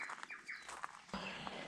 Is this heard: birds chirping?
yes